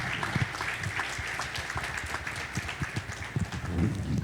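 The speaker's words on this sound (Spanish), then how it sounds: "Un aplauso para él" Audience applause at a Honduran academic lecture, a dense steady wash of clapping hands filling the room for about four seconds with no speech over it.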